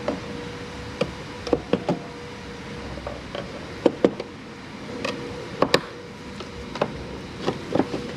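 Flathead screwdriver prying up the fuse box in a Chevy Impala or Malibu, giving scattered sharp plastic knocks and clicks at irregular intervals, close by with no talk.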